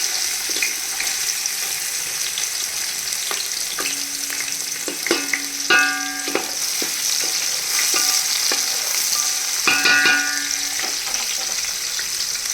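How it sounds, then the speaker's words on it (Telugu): Thinly sliced onions frying with green chilies in oil in a pan, a steady close sizzle with intermittent clinks and scrapes of stirring. "ఆనియన్స్ గోల్డెన్ బ్రౌన్ కలర్ వరకు ఫ్రై అయిపోవాలి."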